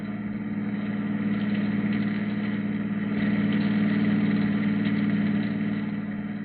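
A car engine running steadily on a road at night in a radio drama, a continuous mid-pitched motor drone that swells slightly in the middle, muffled and even, heard with no talk over it.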